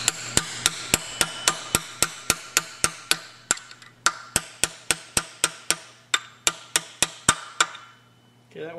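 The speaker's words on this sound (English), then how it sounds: "Then pound that roll pin down through there." Sharp metallic hammer blows drive a roll pin into a Super Cub three-speed transmission, about twenty-five evenly spaced strikes that are close and loud, pausing briefly near the end.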